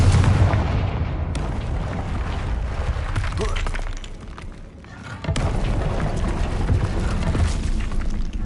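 Spell explosions go off in a fantasy video game, a loud continuous barrage of booms and crackling blasts with a short lull in the middle, mixed with game audio.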